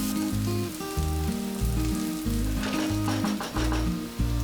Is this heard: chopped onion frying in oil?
yes